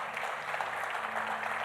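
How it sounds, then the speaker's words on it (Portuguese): Church congregation applauding during a Christmas sermon, a brief, steady burst of many hands clapping at moderate distance, even in level and unbroken by speech. "Você pode aplaudir a Deus pela palavra dele?"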